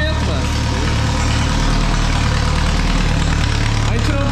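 A homemade engine built from a Volkswagen Gol CHT motor, with a short piece of exhaust, idles with a steady low rumble, near and constant, while someone talks over it.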